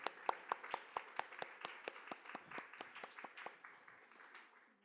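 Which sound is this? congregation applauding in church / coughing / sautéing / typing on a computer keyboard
congregation applauding in church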